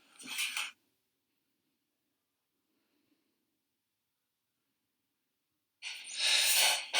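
Two breaths separated by a long silence: a sharp intake near the start, then a longer, forceful exhale at the end, close and clear.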